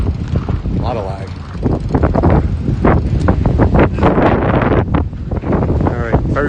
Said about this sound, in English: very windy, guys